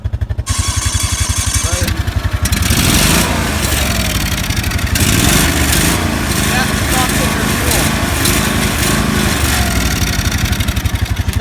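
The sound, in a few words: tractor engine revving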